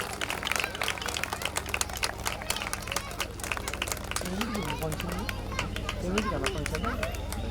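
A large audience claps steadily through the whole stretch as a Swamiji is garlanded at a Hindu community gathering in Raghavendra Colony, Gadwal, with crowd murmur and voices mixed in.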